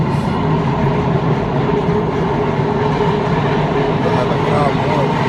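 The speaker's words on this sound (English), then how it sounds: "that was an Amtrak passing by" An Amtrak passenger train rolls past nearby, a loud, steady rumble with rhythmic wheel clatter and rail noise filling the whole clip.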